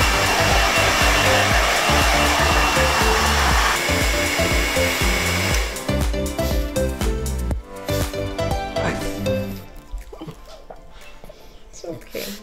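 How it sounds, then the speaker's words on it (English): A hair dryer roars loudly and close while blow-drying senior pugs after a bath at home, then cuts off about halfway through, leaving someone speaking softly over faint background sounds. "I just finished blow drying all three of these little guys."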